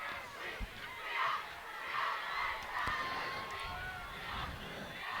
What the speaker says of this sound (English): the fine crowd from Marshfield over on the far side, letting us be heard